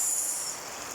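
Heavy rain falls as a dense, even, high hiss, close and fairly loud, over a very short span with no voices.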